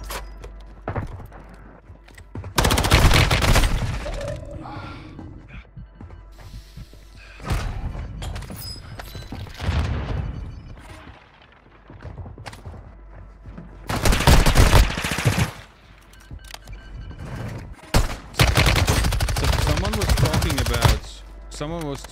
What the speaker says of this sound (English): I didn't know this sniper is full auto